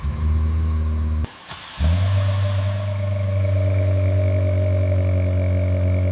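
A white Ferrari restored after sitting abandoned in a storage unit runs loudly and close, then cuts out briefly, restarts with a sharp crank and settles into a deep, steady idle.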